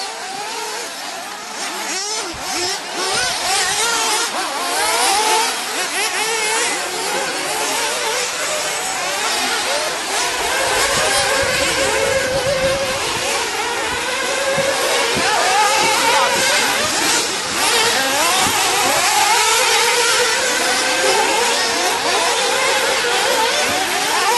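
Racing car engines drone and rev continuously during a quarter-final of the 2009 Montpellier Grand Prix, with overlapping engine notes rising and falling as the cars pass close by.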